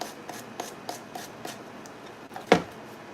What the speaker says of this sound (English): we're just gonna use our little sander to sand off the excess napkin